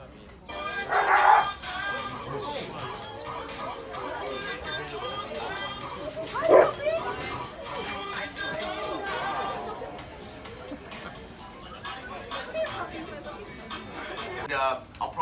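A sled dog team in Alaska barks and yips in scattered bursts, some yelps standing out, beneath steady nearby talking and chatter from people.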